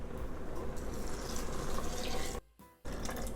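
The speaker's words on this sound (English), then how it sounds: "I'm gonna add in 2 cups of water" Steady rush of water pouring from a tap into a cooking pot, continuous and close, briefly cutting off near the end before resuming.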